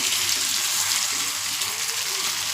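Curry leaves fry in hot oil with fish masala, giving a loud, continuous bright sizzle that hisses evenly throughout with no voices.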